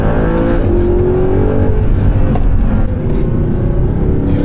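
An Audi R8 engine accelerating, a loud, close, sustained roar with rising and shifting tones as revs climb, a brief dip partway through, then the drone continues without speech.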